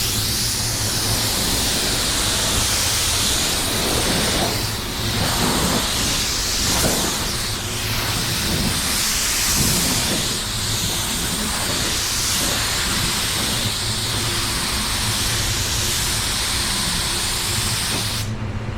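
A new 3M Performance paint spray gun hisses continuously at close range, a loud, steady spray of air and paint that barely changes for nearly twenty seconds.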